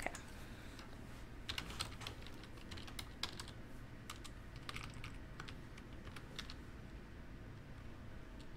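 Rapid, uneven typing on a computer keyboard rattles along for several seconds. The clicks are faint and close, over a low background hum.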